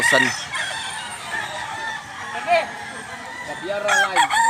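A fighting-breed rooster in Cebu crows near and loud, one drawn-out call early and another toward the end, with softer clucking and faint background noise between.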